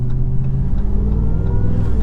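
Deep, steady rumble of a 2023 RAM TRX's supercharged V8 accelerating, heard from inside the cabin at night as a continuous low drone without speech.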